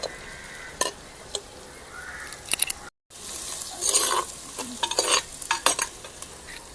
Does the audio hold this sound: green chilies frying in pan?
yes